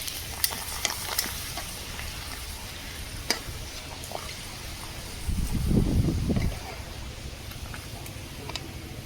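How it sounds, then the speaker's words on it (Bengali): Papad frying in hot oil gives a steady crackling sizzle with sharp pops and ticks, swelling into a louder bubbling burst midway before settling back to a constant fry. "তেলের মধ্যে পাঁপড় দিয়ে দিচ্ছি"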